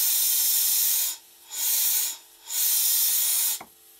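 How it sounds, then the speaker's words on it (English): A small model steam engine with a faulty slide valve gives off loud, broad hissing exhaust in three long bursts separated by brief quiet gaps, ending with a short clunk, close by and with no voices. "It's exhausting at the end of each stroke."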